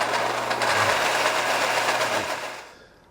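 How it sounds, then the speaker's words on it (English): Blender pureeing a peach and heavy coconut cream soup with Chardonnay and peach nectar, a steady loud whirring roar that holds for about two and a half seconds before winding down and fading out. "and we puree it."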